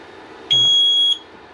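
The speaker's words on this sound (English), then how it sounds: "So the sounder base is working." C-Tec fire alarm demo board sounder base gives one loud, steady electronic tone lasting about half a second, starting and stopping abruptly over quiet room noise.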